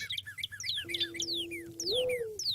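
Birds in a Minecraft modpack game chirp and tweet in quick overlapping high calls, with a steady low cooing tone underneath, close and fairly quiet.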